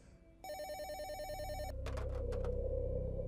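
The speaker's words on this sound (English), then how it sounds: "My phone rang and I picked it up." An old-style telephone bell rings loud and close in a sustained electronic trill, then breaks into a few shorter rings over a low rumble.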